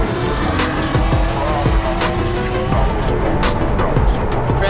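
Drift cars racing at Formula Drift Utah, one chasing close beside a BMW; loud continuous engine roar with revving, tire noise and rapid repeated high-pitched bursts, steady and near throughout.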